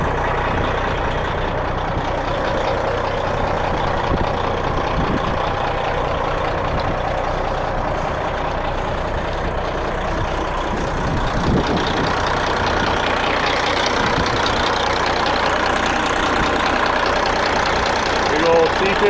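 A Caterpillar C15 diesel engine in a short-hood truck idles at an auction, a loud, steady low rumble that runs the whole time with no change in pace.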